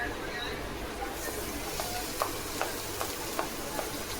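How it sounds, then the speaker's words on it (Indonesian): Chili and shallots sautéing in a pan give a quiet hissing sizzle. Light stirring clicks land every half second or so, and a voice talks over the cooking. "Oke, ini kita tumis aja dulu."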